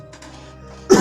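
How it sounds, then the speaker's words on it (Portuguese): A single sharp cough right into a microphone at the very end, loud and close after near silence. "tossi aqui bem em cima do microfone, não deu tempo de sair fora"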